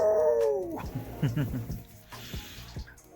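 A voice imitates a Dalmatian dog, yipping and barking in a quick series of short, high, excited calls.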